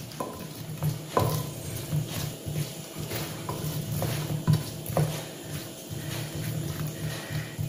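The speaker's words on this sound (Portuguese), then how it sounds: "Agora, vou dar uma mexidinha aqui" A spoon stirs pasta in a pan, giving soft recurring scrapes and light taps every second or so over a low, steady background hum, close up with no talking.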